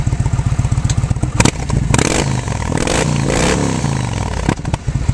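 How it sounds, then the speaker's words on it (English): A 2008 Yamaha Midnight Warrior motorcycle fitted with floorboards revs its exhaust up close, a lumpy rhythmic idle rising into several loud throttle blips and sustained revving before settling back to the chugging idle. "Let me crack this exhaust a little bit so you can hear it."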